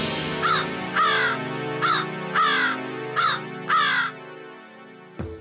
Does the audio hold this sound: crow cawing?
yes